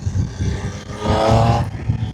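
A Triumph three-cylinder motorcycle engine revs and burbles nearby, its throaty note rising briefly then settling back to a rumbling idle.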